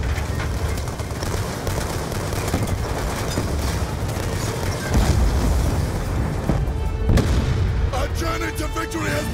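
A grenade explosion and gunfire in the video game Call of Duty Black Ops 2 make dense, continuous loud booms and rumbling blasts that swell midway, with no pause throughout.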